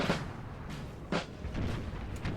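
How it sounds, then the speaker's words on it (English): Faint, distant booms from howitzer-like mortar shelling in the video game Napoleon Total War land in an irregular series of muffled thuds, with a few sharper impacts standing out. "We have a mortar sort of thing going on. Oh my god. It's like a howitzer on like steroids"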